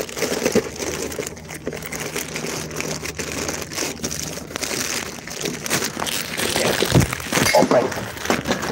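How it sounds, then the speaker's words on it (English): An object dropped onto glass, giving a sharp crunching crash like breaking late in the clip, amid ongoing rustling and handling noise, with some voices in the background. "That landed on glass."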